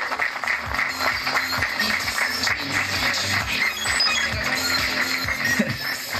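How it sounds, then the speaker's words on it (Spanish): Applause at a car club award ceremony during a vehicle meet: continuous, fairly distant crowd clapping over a low, steady background, with occasional clinks mixed in. "Fuerte el aplauso."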